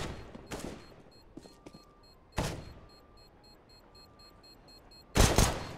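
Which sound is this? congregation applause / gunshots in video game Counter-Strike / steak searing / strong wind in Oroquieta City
gunshots in video game Counter-Strike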